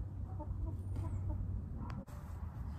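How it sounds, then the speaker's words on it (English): Soft, repeated clucks from a small white Silkie rooster, a short run of low notes in the first second or so over steady outdoor background noise, with no talking. "He is a white silky. Look at that. He's such a good rooster and takes really good care of them."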